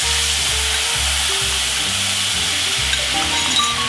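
Sauce of brown sugar and sesame oil sizzles loudly and continuously in a pan with fried anchovies and peanuts over lowered heat. A low, stepping tonal hum runs beneath, and no one speaks.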